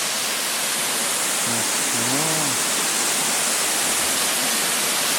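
Steady, broad roar of a waterfall swollen and muddy after rain, loud and continuous throughout, with a brief voice-like call rising over it midway.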